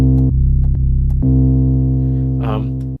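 Heavy synthesized 808 bass notes from Apeshit 808 plugin presets play in a quick sequence, the first few short and punchy, then one long sustained tone ending abruptly.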